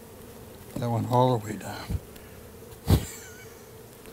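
Honey bees buzz around an opened hive during a brood inspection, a low hum sitting under close conversation, with one sharp knock partway through.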